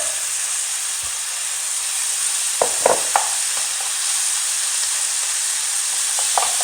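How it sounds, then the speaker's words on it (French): Spiced meat stuffing with coriander and parsley for stuffed msemen sautés in a pan over medium heat, giving a steady close hiss and sizzle broken by a few light stirring clicks. "Je laisse ma farce revenir à feu moyen pendant 5 minutes, le temps que la viande soit cuite, en mélangeant de temps à autre"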